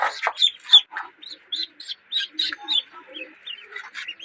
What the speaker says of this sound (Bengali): একটা দেশি হাঁসের, চঞ্চল তো খুব, মাপাটা খুব কষ্টকর